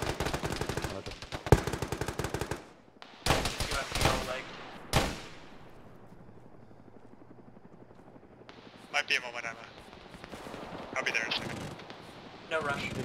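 Automatic and single gunfire in an Arma video game with the ShackTac group, several loud close bursts of rapid shots separated by quieter stretches, with radio-style talk among players.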